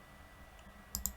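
Two quick computer mouse clicks close together near the end of a short, quiet stretch while opening a file in spreadsheet software.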